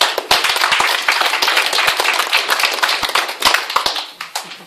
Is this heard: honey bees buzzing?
no